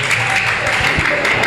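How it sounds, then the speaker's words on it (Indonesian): A small audience at a Quran school graduation event claps in a busy, uneven patter that is fairly loud and close, with voices mixed in under the clapping. "Tepuk tangannya mana?"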